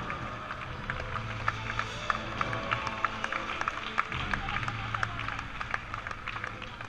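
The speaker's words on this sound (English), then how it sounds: "All right, audience, keep your applause going." Studio audience applause on a Fear Factor stage, a steady wash of clapping with scattered sharp claps and crowd murmur underneath, moderately loud throughout.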